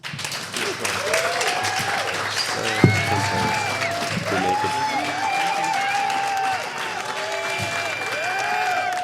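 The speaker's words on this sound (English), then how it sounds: "a big round of applause" Audience applause at a surf film festival screening, steady clapping from a crowd sustained throughout, with voices and a few sharp sounds mixed in over the top.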